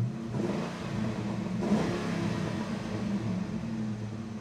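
A stock Ford Mustang Mach 1 with its 4.6 V8 revs steadily at moderate volume, its engine note swelling briefly midway, with no one talking.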